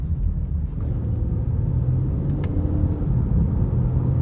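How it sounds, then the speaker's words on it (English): A 2013 Acura RDX 3.5 V6 accelerates in sport mode, a low steady engine rumble heard from inside the cabin with a shift partway through, continuous and moderately loud with no talk. "I'm gonna see how quickly it shifts in the sport mode."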